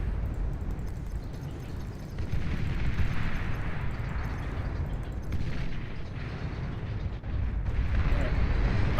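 Deep, rumbling bomb explosions roll continuously in a video game, forming a dense, loud low-frequency barrage that surges and dips over several seconds while a player talks over it.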